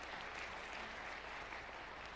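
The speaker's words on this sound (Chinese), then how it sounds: "我们拍手鼓励他，拍手鼓励他。" A church congregation applauds during a Sunday worship service with dense, continuous clapping, heard faintly and evenly from start to finish.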